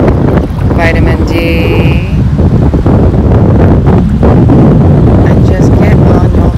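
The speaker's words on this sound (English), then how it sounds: "So it's windy." Strong wind buffets the microphone throughout with a loud, constant roar, while a voice speaks faintly beneath it.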